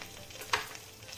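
Green chilies dropped into hot ghee with cumin seeds give a short, sharp sizzle that flares briefly and then settles into a faint, steady frying crackle.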